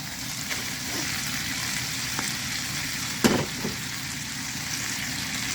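Pork belly and bamboo shoots stir-fried with southern chili paste in a pan, a steady broadband sizzle running throughout with a couple of brief scraping knocks of the utensil, close and alone without talk.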